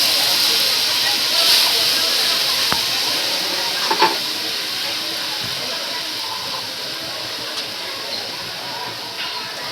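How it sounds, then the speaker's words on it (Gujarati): Water poured into hot spiced oil tempering for a gathiya curry, giving a continuous steamy hiss with a few sharp crackles and clicks, steady and fairly close. "પાણી નાખશું,"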